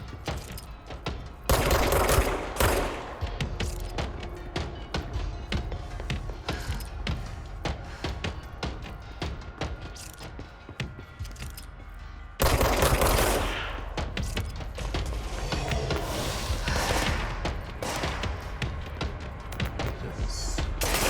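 Bursts of gunfire from the video game Control, dense rapid shots with mechanical clatter, loud and near, with a sharp surge of fire about halfway through and continuing to the end.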